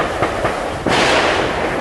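Gunfire during a security forces encounter in Shopian: two quick sharp cracks followed by a loud, sustained burst of rough blasting noise, alone without speech.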